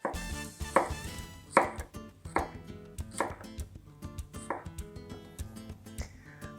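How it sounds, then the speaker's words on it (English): A Mercer knife chops fresh produce on a board in a steady run of crisp, close cuts, about one every three quarters of a second, with no talking. "This Mercer blade makes very short work of fresh produce."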